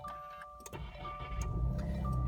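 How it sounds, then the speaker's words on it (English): A 2017 Subaru Impreza Sport 5-door starting up: a brief click, then the engine catches and settles into a steady low rumble with a faint tone chiming over it, heard close and without talk. "First, we're going to start the car."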